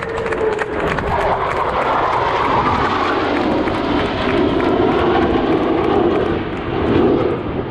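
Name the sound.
Blue Angels jet aircraft flying over during practice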